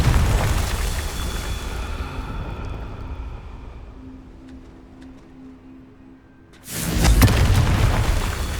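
A Confringo blasting spell goes off in the Hogwarts Legacy video game. A deep booming blast fades into a long rumbling tail, then a second loud burst erupts sharply near the end.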